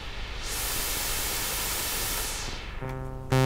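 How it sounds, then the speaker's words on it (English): A Yamaha CS01-II analog synthesizer hisses out a broad white noise sweep that opens up and fades down, followed by a brief buzzy tone rising at the end. "We have actually white noise."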